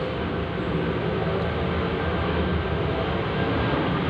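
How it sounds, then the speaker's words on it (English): Airplane passing overhead above Henry Street, Leichhardt, a suburb of Sydney, a steady loud broadband roar that holds constant across the whole stretch with low rumble underneath, no talk. "plane going over my head"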